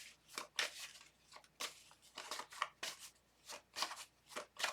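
Tarot cards being shuffled close up in quiet, rhythmic riffling bursts, about a dozen soft papery flicks spaced with brief pauses.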